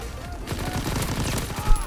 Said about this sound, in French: Elle a une cadence de tir qui est juste ouf.